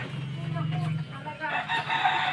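A rooster crows near a chicken coop that has just been given a new roof, with one drawn-out call at the start followed by softer clucking. A person speaks faintly in the background.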